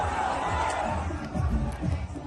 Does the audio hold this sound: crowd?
yes